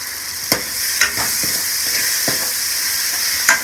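Potatoes fry in a pan with a loud, steady sizzle, and sharp stirring scrapes come about every half second to a second over it.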